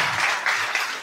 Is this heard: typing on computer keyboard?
no